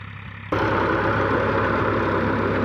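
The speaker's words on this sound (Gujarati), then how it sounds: "રોટાવેટર જઈ રહ્યો છે જોઈ શકો છો રોટાવેટર અવાજ બહુ આવશે" A tractor running a rotavator starts up loud half a second in and holds a steady, dense, rumbling drone with a low, throbbing engine pulse, close by, with no voices.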